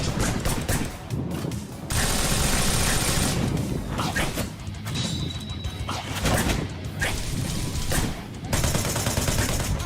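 Gunfire from the action video game Wanted: Dead, rapid bursts and fusillades mixed with crashes and slashing chaos, loud and continuous throughout with a dense game soundtrack underneath.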